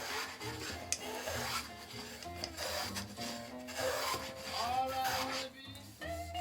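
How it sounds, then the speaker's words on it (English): Quiet, steady rasping and scraping strokes of a spokeshave shaving a wooden Greenland paddle, repeated close by. "get as much off as you can with the spoke shave"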